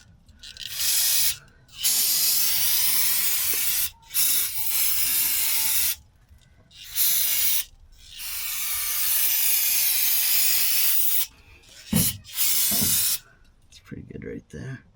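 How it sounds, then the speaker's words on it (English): Brake parts cleaner hisses from an aerosol can in several bursts over a VW engine's oil pan area, close and sharp, each spray separated by short pauses. "Alright, let's use a little brake parts cleaner."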